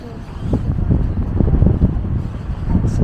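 Strong, cold winter wind buffets the microphone at an open viewing area of the Katarinahissen lift at Slussen in Stockholm, a continuous rough low roar with gusty thumps throughout.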